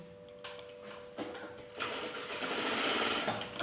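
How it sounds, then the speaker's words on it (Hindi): An industrial single-needle lockstitch sewing machine with an under-bed trimmer starts up and sews, its motor whir building into a rapid, steady, close mechanical chatter, with no talk. "तो ये सिलाई करने के बाद धागे को काट के भी बाहर निकालेगी"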